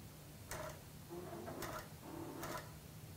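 A sewing machine stitches a Fourth of July quilt with soft, close, mechanical whirring bursts, about three short runs separated by brief pauses, fairly quiet throughout.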